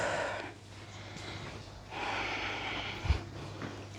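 A forceful breath pushed out through the nose and mouth during a standing Pilates lunge-and-press with weights, close and fairly soft, with a few short audible exhales and a brief thump near the end.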